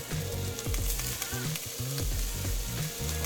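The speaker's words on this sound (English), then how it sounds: "Go ahead and add our burger patties." Burger patties sizzling in a hot pan with olive oil, a soft continuous frying crackle close by with small scraping and knocking sounds, no talking.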